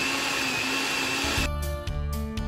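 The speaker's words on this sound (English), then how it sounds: "Blend in the blender." A blender whirs loudly and steadily while blending pomegranate seeds, then its motor pitch shifts and pulses with a few bursts as the seeds churn.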